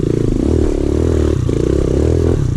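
A big-bore Kawasaki KLX110 dirt bike engine drones loud and close with a steady buzzing note, dipping briefly midway before holding again at speed.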